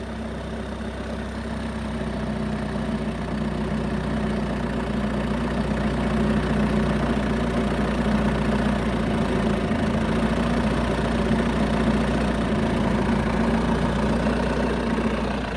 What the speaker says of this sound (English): Let it warm up now. Don't be cold revving it.